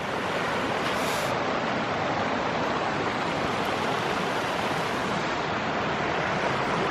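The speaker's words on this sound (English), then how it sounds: "And this nice little creek over here." A small creek beside the Ozark Highlands Trail rushes and burbles in a steady, dense wash of water noise, close and continuous with no voices.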